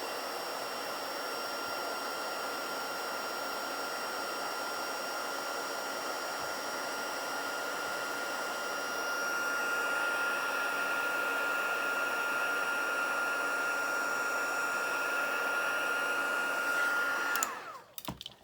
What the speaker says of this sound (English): I'm going to get hold of my heat gun and I'm going to just heat this again